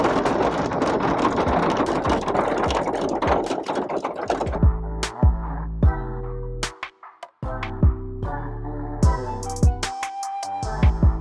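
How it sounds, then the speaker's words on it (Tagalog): Heavy rain pours at the Bureau of Fire Protection National Headquarters in Quezon City, a dense, steady roar for about four seconds before it gives way to tonal music with sharp plucked notes. "sobrang lakas ng ulan"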